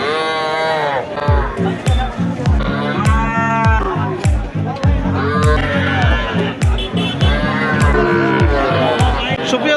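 Cattle moo repeatedly, several animals close by and overlapping, amid a busy crowd with steady voices and market clatter throughout, at a large cattle market in Bangladesh selling young heifer calves.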